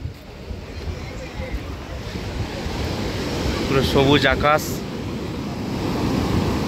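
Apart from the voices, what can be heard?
sea waves breaking on Old Digha beach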